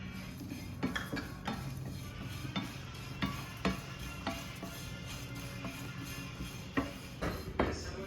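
Dry flattened rice (poha) stirred and roasted in a pan, with steady scraping and repeated clinks of a spoon against the metal pan, fairly close and continuous without any talking.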